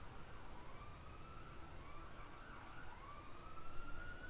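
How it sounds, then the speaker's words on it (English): An emergency vehicle siren wails continuously in the distance, its rising and falling tone steady and faint over a constant background rumble. "If you guys can hear that siren."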